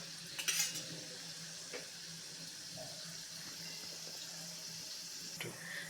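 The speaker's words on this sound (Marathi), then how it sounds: "आणि हे छानपैकी आपल्याला परतून घ्यायचे आहे दोन्ही डाळी डाळीसुद्धा मोहरीसोबत मस्त" Dals fry with mustard seeds in a pan for bread upma, a quiet continuous sizzle under occasional spatula scrapes and a few sharp pops near the start, heard close up with no talking.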